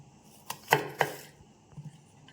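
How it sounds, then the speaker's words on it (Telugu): A knife chopping onion finely on a cutting board, a few sharp close-up knocks in quick succession followed by softer, fainter cuts. "సన్నగా ఉల్లిపాయ కట్ చేసుకుందాం"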